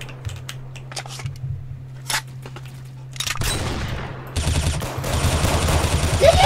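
Guns in the Roblox game Arsenal crack in quick bursts, starting as scattered sharp shots and swelling into louder, denser automatic fire with game noise behind it.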